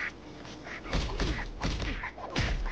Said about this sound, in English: He sends out a bomb.